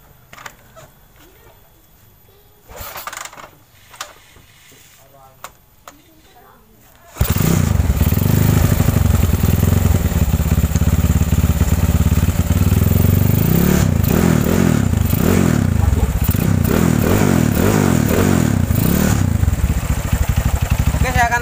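After a few seconds of quiet shuffling, a Honda CB motorcycle with a stroke-up and bore-up engine roars into life on a test ride, loud, close and continuous, with rising and falling revs and wind noise.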